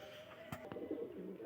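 A pigeon near white Shirazi pigeons coos once softly and nearby after a couple of sharp clacks, with a low wavering call that trails off.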